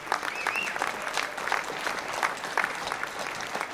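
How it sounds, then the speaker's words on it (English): A festival audience at a dulcimer gathering breaks into dense, sustained applause, many hands clapping steadily at close range, with a brief whistle-like tone rising over the clapping near the start. "give yourselves a big round of applause for the effort that you make"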